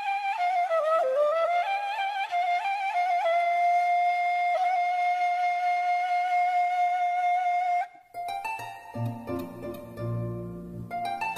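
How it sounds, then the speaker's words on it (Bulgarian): A harp is plucked gently in a few soft, ringing notes near the end, after a long, wavering sustained flute melody fades. "И разбира се, нежния звук на арфа."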